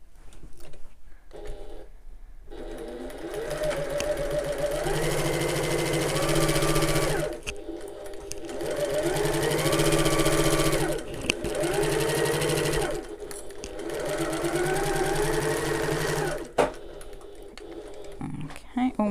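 Sewing machine stitching a bag seam with backstitching at the start and end, several close bursts of rhythmic whirring separated by pauses, with someone talking throughout.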